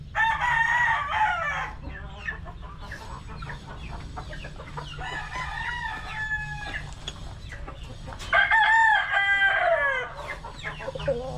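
Boston Roundhead gamefowl roosters and hens in a backyard pen, with loud crows near the start and again near the end and steady clucking in between.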